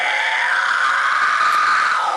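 A metal vocalist's layered scream, a high throat shriek stacked over a traditional scream, rings out as one sustained, harsh, piercing wail lasting a couple of seconds, close and alone.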